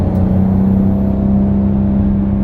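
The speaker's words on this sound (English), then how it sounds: "You can really feel the boost kick in" A mostly stock 1994 Toyota Supra twin turbo with a six-speed manual accelerating hard, heard from inside the car as a steady, loud engine drone and whir that holds throughout.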